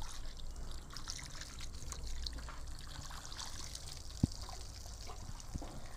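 Water trickles and pours steadily while a dog is bathed, a soft continuous stream with a couple of faint splashes or drips, fairly quiet throughout.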